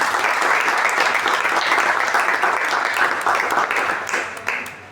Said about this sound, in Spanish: si le podemos brindar un fuerte aplauso en memoria a nuestro amigo